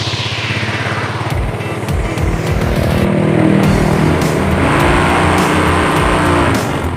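Close, loud Yamaha Mio Sporty motorcycle engine being revved during a battery charging check, with rising and falling throttle surges over a steady idling rumble and no talking.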